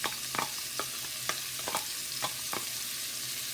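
Holy Trinity seasoning of chopped vegetables sizzles steadily as it browns in a pan, with a constant hiss broken by several sharp clicks and scrapes from stirring, close and alone with no talk.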